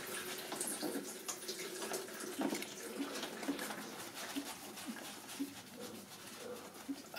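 Coolant pours into the expansion tank of a 1999 Peugeot 306 with a 1.9 L engine that has been overheating. A steady, gentle trickle and gurgle of liquid plays for several seconds at a close but moderate level.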